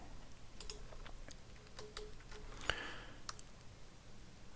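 Computer keyboard keys tapped while entering commands, a few sparse, faint clicks spread irregularly over a quiet room background, with no voices.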